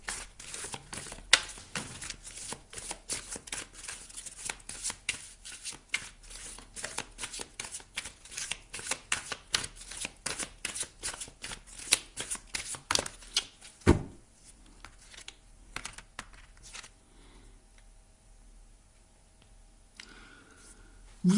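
A deck of oracle cards is shuffled close up in a long run of rapid, crisp riffling flicks. The flicks thin out into occasional soft card taps near the end, with no talking.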